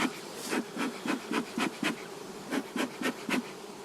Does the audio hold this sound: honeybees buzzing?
yes